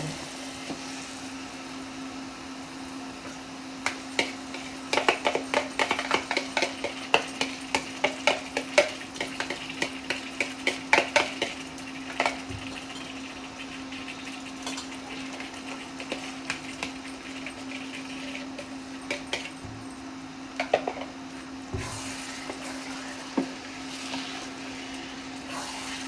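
Mutton stirred into a pan with potatoes for homestyle mutton aloo kosha, giving repeated scraping and clattering stir strokes over a soft, steady sizzle, busiest in the first half and sparser toward the end.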